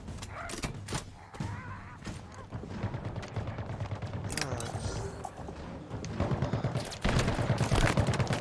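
Rapid in-game gunfire in the Halo Infinite campaign, a dense barrage of overlapping shots and bursts that continues throughout and swells louder toward the end, with a voice briefly heard beneath the shooting.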